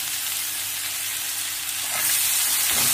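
Vegetables with red chili powder sizzling and frying in a hot pan for a spicy brinjal-potato curry, a steady close hiss that grows louder toward the end.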